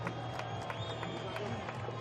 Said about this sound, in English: There'll be a big cheer here.